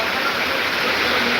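Torrential rain falls in a constant, even wash of noise, loud and close, with no pauses or other clear sounds.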